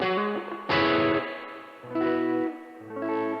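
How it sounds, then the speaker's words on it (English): Electric guitar chords with a crunchy tone through a Tech 21 NYC Trademark 10 amp, each strum ringing out into a long, splashy Fender-style spring reverb tail; three strums spaced apart, loud and close. "So now I'll turn up the reverb a lot more."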